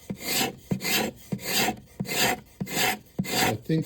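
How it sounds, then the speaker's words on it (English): A hand scraper drags across ukulele wood in six or seven rhythmic rasping strokes, each a close, bright scraping pass with a short pause between, no voices. "I think the scraper gives me a lot finer control than piece of sandpaper"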